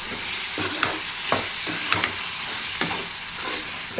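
Chopped tomatoes with salt fry in a pan with a steady close sizzle, while a spoon stirs and scrapes them in repeated knocks every half second or so, with no voices.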